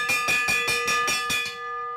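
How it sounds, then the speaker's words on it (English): A bell clangs rapidly and loudly at a track cycling championship Madison race, about seven evenly spaced strikes in under two seconds before it stops and the ringing tone fades out. "They're going to hear a bell in just about a half a second."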